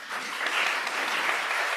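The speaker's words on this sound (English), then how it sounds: "Please help me give them a round of applause" A conference audience gives the panelists a short, warm round of applause at the close of a knowledge session, a dense, steady patter of many hands clapping together.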